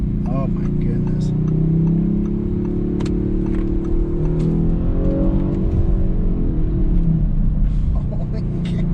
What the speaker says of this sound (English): Oh, the pops and bangs with the exhaust from the factory.